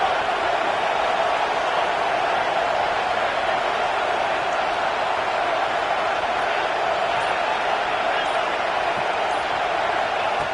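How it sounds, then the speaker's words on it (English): A loud football stadium crowd roars as one continuous, dense wall of noise that holds steady throughout, with no clear breaks. "listen to this crowd noise. This stadium is vibrating."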